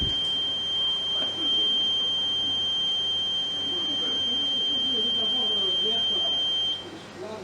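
An oil mist detector head sounds its alarm buzzer during a smoke test, a steady high-pitched electronic tone that holds continuously for about seven seconds before cutting off, over a low machinery hum.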